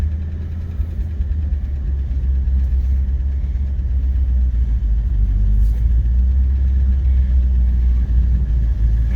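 An old Packard engine idles steadily with a low rumble and a faint ticking of lifter noise, close by and continuous.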